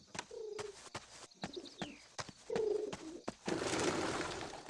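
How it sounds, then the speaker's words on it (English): Pigeons coo in the Hitman 2: Silent Assassin video game, giving a few soft, close calls among sharp clicks and a burst of noisy ambience near the end, with no talking. "Birds."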